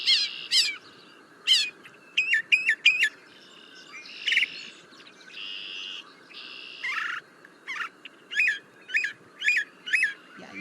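A mockingbird sings close by in varied bursts of chirps and buzzy phrases, mixing in a mimicked woodpecker noise as quick repeated knocking notes, in a quiet outdoor setting with no voices.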